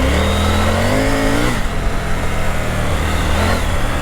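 A Triumph Tiger 900 Rally Pro motorcycle in off-road mode revs up loud and close, its engine note climbing and then dropping, followed by a steady, throbbing mid-pitched drone.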